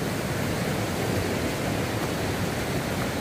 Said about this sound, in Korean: 이런 데는 진짜 물 수량이 엄청나게 쏟아지네요